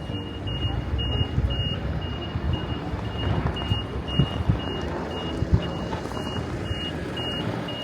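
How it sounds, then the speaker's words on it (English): A delivery truck reverses in a town square in Madrid on a morning, its backup alarm beeping in a regular rhythm over a low engine rumble and street noise. "Lots of delivery trucks out this morning."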